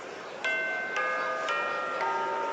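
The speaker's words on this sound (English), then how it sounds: "Oh, there's the bell." A bell rings in the Bravely Second: End Layer 3DS game, struck four times at an even pace, clear and resonant over steady game background music, with no talking.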